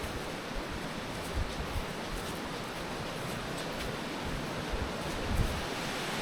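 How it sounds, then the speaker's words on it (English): A strongly flowing creek below a cave swim spot, with a steady broadband rush of moving water that is continuous and fairly close, with occasional louder surges and no talking. "there's a very, very well flowing creek down there"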